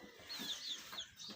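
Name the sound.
desi chickens clucking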